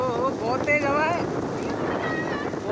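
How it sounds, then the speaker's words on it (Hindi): Strong stormy wind buffeting the microphone outdoors in light rain, a loud continuous rumbling roar with gusts, while a person talks over it. "ओ, बहुत तेज हवा है,"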